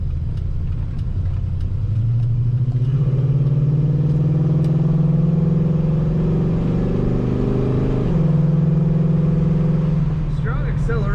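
A 1969 Oldsmobile 442 engine pulls under strong acceleration, a steady rising drone that climbs in pitch, eases briefly, then resumes close and loud throughout, heard from inside the car on a cool day.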